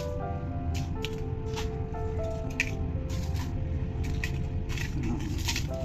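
Hands squish and mix chili and curry leaves into canned tuna for a Maldivian fish curry, a continuous wet mashing and crunching close by over a steady low background hum.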